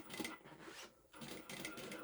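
A sewing machine running a quick basting stitch on a bag, two short bursts of whirring separated by a brief pause, faint and close.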